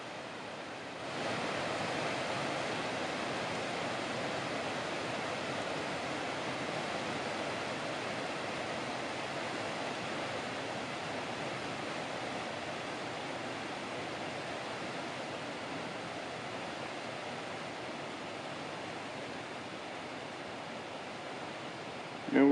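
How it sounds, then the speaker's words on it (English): Steady rushing water roars continuously from a nearby waterfall in the Wind River Range, a broad even wash that starts abruptly and holds at constant loudness throughout. "That's the waterfall you can probably hear."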